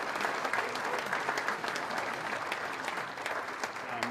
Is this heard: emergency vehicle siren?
no